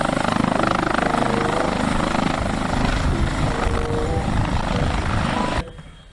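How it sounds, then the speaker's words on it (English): A military helicopter thrums with a loud, steady rotor chop that continues evenly before cutting off abruptly near the end. "Military helicopter, look is beautiful."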